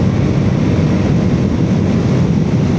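A motorcycle fitted with a new Taco Moto ECU and stock exhaust rides along with a constant, loud engine drone blended with heavy wind rush.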